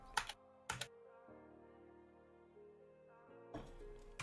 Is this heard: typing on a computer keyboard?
yes